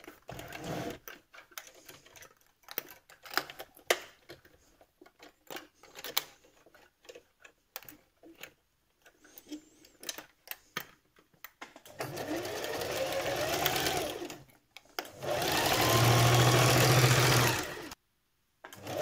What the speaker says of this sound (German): dann fängt man an, das einmal hier außen rum zu nähen.